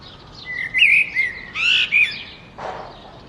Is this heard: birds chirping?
yes